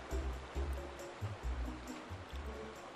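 Flowing river water laps and splashes in steady pulsing surges during a canoe ride in the video game The Legend of Zelda: Twilight Princess, close and continuous with no talk.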